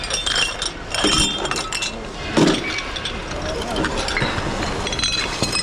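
Broken dishes and saucers clink and rattle as they are handled in a dumpster, sharp ceramic knocks scattered among steady outdoor noise, with people talking nearby.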